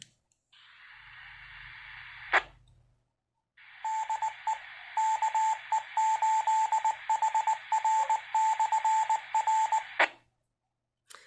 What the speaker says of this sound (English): after I let go of the button, I should get some beeps or static or something